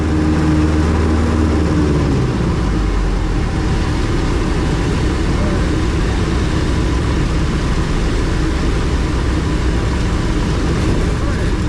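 A small single-engine training aircraft's piston engine run up to go-around power, with black smoke from the exhaust; a loud, steady engine roar fills the cabin throughout after an early low tone.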